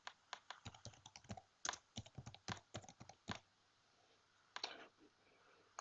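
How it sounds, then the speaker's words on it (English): Fingers tap a computer keyboard in quick irregular bursts of crisp clicks, pausing briefly, then a few more keystrokes, close and clear in a quiet room. "If I could type, it would really help."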